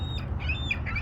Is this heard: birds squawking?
yes